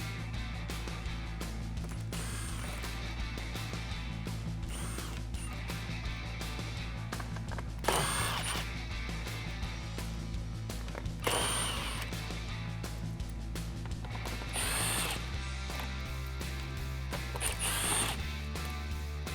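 Power tool or ratchet working the bolts off a 2018-2019 Mustang GT MMD chin spoiler, in short bursts of whirring with sharp pauses, fairly faint against a steady background hum.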